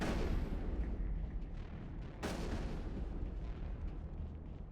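Gunfire in the video game Mass Effect, a dense rumbling barrage with one sharp crack midway, loud and continuous with no talking.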